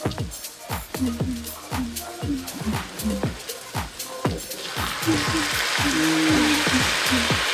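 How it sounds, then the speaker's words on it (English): Dry white wine poured into a hot pan of mushroom risotto, with steady frying and sizzling, stirring scrapes and knocks, and a louder hiss as the liquid hits the pan, while a person talks over it. "Okay, I'm ready to put the wine in."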